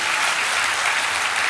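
A church congregation applauds in a dense, steady burst of clapping, loud and close, filling the brief moment without any voices over it.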